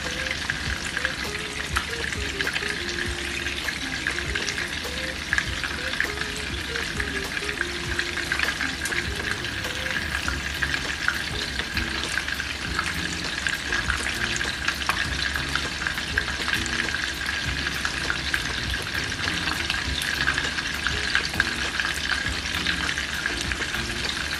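Veggie cutlets fry loudly and continuously in a pan, with a dense bubbling sizzle throughout and occasional light clicks and scrapes as the pieces are turned one by one.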